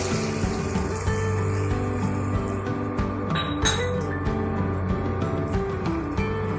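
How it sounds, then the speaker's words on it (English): A little water is added to a pan of ginger paste on an induction cooktop while cooking banana flower croquettes, giving a steady sizzling, watery rush with scattered light clinks of utensils against the cookware. "Here I'll add little amount of water."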